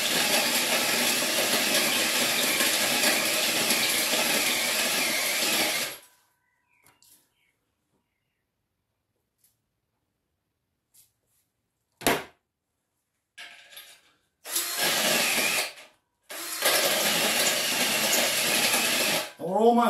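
A drill fitted with a hole saw grinds through material while building a home motion platform, loud and close in sustained bursts separated by stretches of silence.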